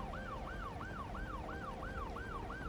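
In the city-building game Cities Skylines 2, an ambulance siren wails in a steady, repeating up-and-down pattern. It sounds moderately distant and runs continuously over a low background of traffic.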